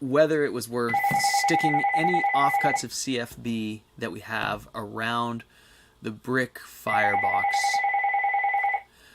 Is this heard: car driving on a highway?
no